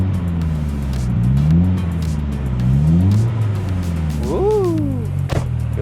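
A Nissan 180SX turbo engine revving from inside the car, with the engine tone climbing and falling in repeated sweeps, loud and steady, and a brief voice near the end.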